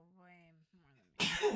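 A sudden, loud, breathy sneeze bursts out near the microphone right after a short stretch of someone talking, ending the clip.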